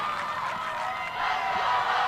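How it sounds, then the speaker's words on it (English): Crowd at a women's college soccer match between Radford and USC Upstate, the Upstate supporters cheering and shouting in a sustained roar that swells louder halfway through, heard from a distance across the stadium. "the Upstate crowd in attendance making some serious noise"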